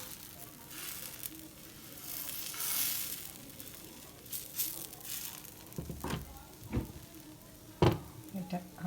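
Wheat dosa batter sizzles softly on a hot pan with sesame oil, a low steady crackle that runs throughout, broken near the end by a few sharper clinks and scrapes of a ladle.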